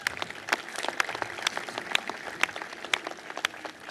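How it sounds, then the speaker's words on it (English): An audience claps together in a short burst of steady applause for Senator Lewis Pate at a morning show gathering, with sharp individual claps standing out from the crowd. "Y'all need to give Lewis Pate a round of applause."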